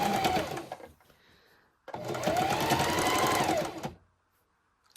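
Singer Heavy Duty sewing machine stitching in two loud, close bursts of rapid mechanical whirring, about two seconds each, separated by a brief pause with no talk.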